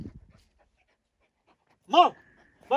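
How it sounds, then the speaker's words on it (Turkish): A dog on a mountain gives two short barks with a brief whine between them, fairly close, after a moment of near silence. "Köpek sesiydi herhalde"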